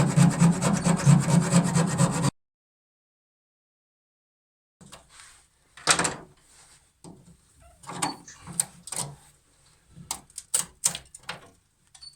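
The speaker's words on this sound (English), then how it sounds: "Anyway, we started with a hacksaw." A hacksaw cuts a rusty marine exhaust pipe in close, rhythmic back-and-forth strokes, followed by silence and then scattered scraping and rasping strokes.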